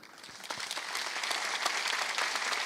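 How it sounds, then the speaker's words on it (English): A conference audience breaks into applause to welcome a speaker at a lecture series, clapping that starts thin and swells into a steady, dense roar of many hands. "We will receive her with applause."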